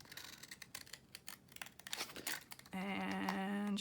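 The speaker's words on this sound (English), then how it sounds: "then I took my decal edge scissors" Decal-edge scissors cut through paper glued to white cardstock, giving close, crisp snips and crinkles in an uneven rhythm, followed by a steady sustained tone.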